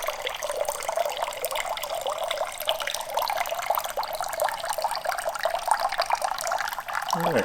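Water gushes and splashes continuously as it flushes out of a Kawasaki ZX6R motorcycle cooling system into a bucket, a steady close rushing pour throughout.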